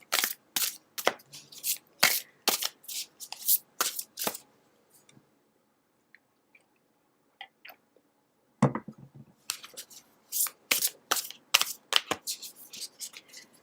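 A deck of cards being shuffled for a card reading: loud, close riffles in quick rhythmic bursts, then a near-silent pause with a few soft taps, followed by another run of crisp shuffling. No speech.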